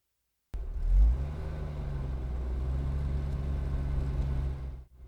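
A car drives steadily with a low engine rumble that swells briefly near the start, holds an even hum, then cuts off at the end, with no talking.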